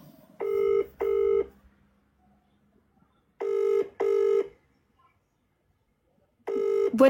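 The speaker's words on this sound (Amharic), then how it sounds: "ይሄው እየደወልኩ ነው እየጠራ ነው አያነሱም" Repeated ringback tones of a phone call, each a pair of short buzzing rings followed by a pause, three cycles in all, clear with no talking.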